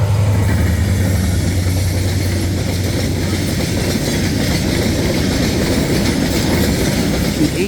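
A train rolls past on a railway line beside a village path in Ullapara. A loud, steady rumble of wheels on the rails carries on throughout, with a low engine drone at the start.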